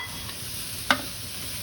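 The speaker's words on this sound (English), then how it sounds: "Saute means high heat, quick in the pan. Now we'll go ahead and add the baby bok choy," Baby bok choy tossed into a hot pan for a quick high-heat sauté, a soft steady sizzle broken by one sharp clatter of stirring near the middle, alone without speech.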